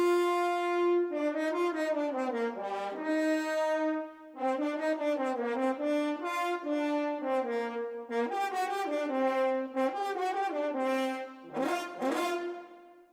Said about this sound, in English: The horns.